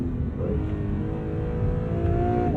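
Acura NSX Type S engine on the move, a steady mid-pitched hum with a tone that rises gently as the car accelerates, loud and close with no talking.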